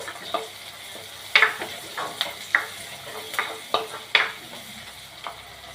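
Tomato sautéing in a pan for a nuts chicken curry, a soft steady sizzle under repeated sharp scraping strokes of a spoon against the pan, close and moderately loud with no talking.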